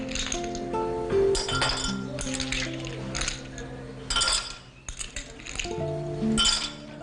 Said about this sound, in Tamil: ஒரு கிளாஸில் தேவையான அளவுக்கு ஐஸ் க்யூப்ஸ் போட்டுக்கலாம்